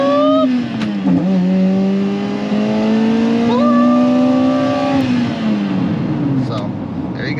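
A Toyota 2ZZ four-cylinder in a Vibe GT with ported exhaust header revs up toward 6,000 RPM, a loud rising engine note that climbs, steps up as it comes on cam, holds high, then falls away.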